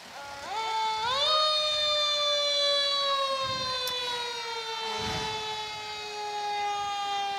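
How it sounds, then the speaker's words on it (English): Lower St. Croix Valley fire engine number 2 rolls past in a summer lumberjack-days parade, its siren winding up loud and close, then holding a steady sustained wail that slowly sags in pitch as it moves on. "I think they're being a little more kind to us with the sirens"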